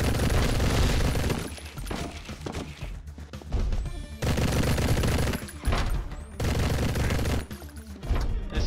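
Rapid bursts of gunfire from enemies in the top-down action game Mr. Shifty come in loud volleys with crashes and impacts and short quiet gaps between them, up close and dominant throughout.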